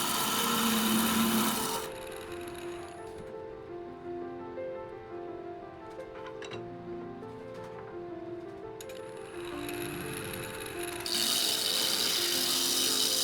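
Wood lathe turning a walnut bowl makes a rough, loud scraping rush at the start and again near the end, with quieter mechanical ticking and tonal sounds in between and no talking.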